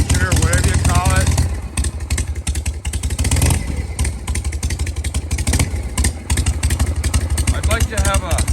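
A Shovelhead motorcycle engine runs close and loud with a rough, lumpy idle and clattering mechanical noise, with a voice talking over it at times.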